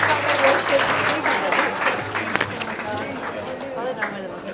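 Audience applause at a youth dialogue event on building brands, steady clapping from a crowd sustained throughout with a voice speaking over it.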